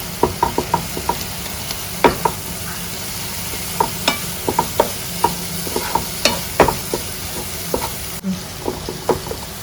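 A spoon scrapes and clicks repeatedly against a pan while chicken roast masala sizzles steadily underneath, close and fairly loud, with no talking.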